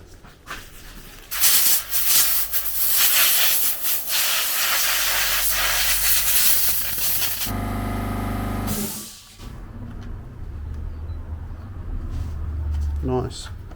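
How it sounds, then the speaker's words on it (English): Compressed air blasts loudly through a carburetor filter in short and sustained hissing bursts, close by, with people talking around it. "let's blow this filter out"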